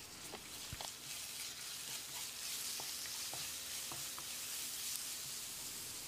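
Onions with crushed ginger and garlic frying in a pan, a steady close hiss and sizzle with a few light clinks of stirring, no talk.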